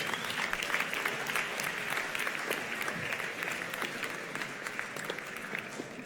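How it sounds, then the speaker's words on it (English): Audience applause at a full-time masters graduation ceremony, a dense steady wash of many hands clapping that fills the room evenly from start to finish without letting up. "Give them a round of applause,"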